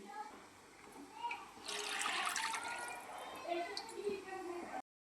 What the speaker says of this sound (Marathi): आता यात 1-2 वाट्या पाणी घालून घेणार आहे मी